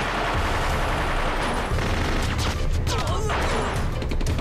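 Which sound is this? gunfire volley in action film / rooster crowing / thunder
gunfire volley in action film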